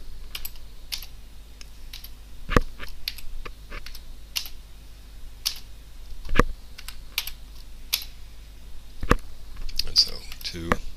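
Computer keyboard typing while entering chord notes in Sibelius notation software, with irregular clusters of close, light key clicks spaced across the stretch, plus a few sharper single taps, over a quiet room.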